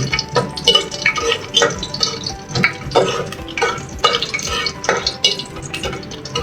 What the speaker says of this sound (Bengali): এটা একটু ভালো করে নেড়ে চেড়ে ভেজে নেব